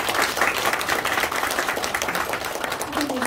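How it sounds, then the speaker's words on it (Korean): Applause at a Korean welfare center's green declaration and agreement ceremony, a dense sustained clapping from a crowd filling the room, with a voice beginning to speak over it near the end. "큰 박수 부탁드립니다."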